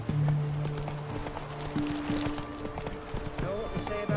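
Horse hooves clip-clopping at a steady gallop in The Witcher 3, a close rhythmic beat under a voice talking and background game music.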